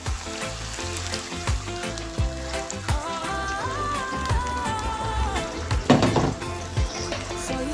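Eggs sizzle and crackle steadily as they fry in a pan with courgette, tomatoes and onion, a continuous close frying hiss with small pops, while music plays underneath.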